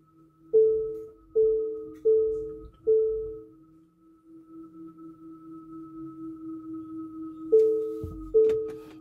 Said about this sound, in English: I'll get those nice tones warning me I'm getting pretty close, but not so close that I have to stop.